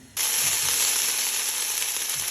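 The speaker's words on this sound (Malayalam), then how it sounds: "ഇപ്പം നെയ്യ് ഇട്ട് കൊടുത്തിട്ടുണ്ട് ചട്ടിയിലേക്ക്." Ghee sizzles in a pan for fish biryani, a sudden, close, steady hiss that starts abruptly and holds evenly, with no talking.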